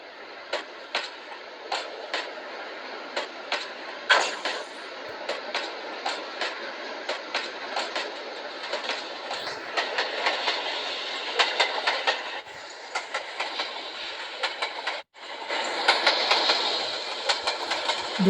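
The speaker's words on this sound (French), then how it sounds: "Nous allons assister au départ d'une Z20900 Transilien." Simulated Z20900 Transilien electric commuter train departing in the Trainz game: steady rolling hum with a regular clickety-clack of wheels over rail joints, moderately faint, with no voices.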